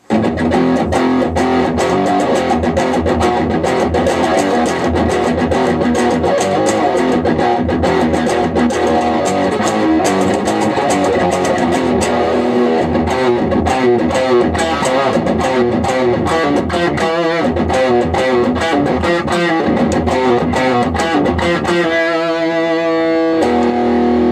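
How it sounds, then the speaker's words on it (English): A heavily distorted Peavey Windsor electric guitar plays loud, saturated riffs and chords through a Peavey Windsor amp at maximum gain, continuous and dense, ringing out briefly at the end. "So this is as much gain, as much distortion, as much anything as you can get."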